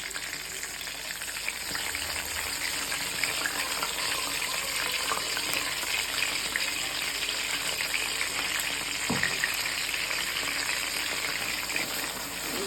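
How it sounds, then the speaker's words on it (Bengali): Spice paste sizzles and fries in a pan with a steady, bright crackle, close and constant, with an occasional soft stir or scrape. "ভালোভাবে মশলা কষিয়ে নেব।"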